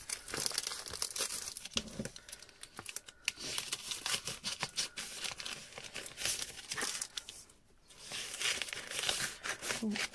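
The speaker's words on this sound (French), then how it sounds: "va essayer d'enlever le scotch." Crinkly tearing and crackling of tape being pulled from packaging, with irregular bursts and rustles close by, voices faintly in the background.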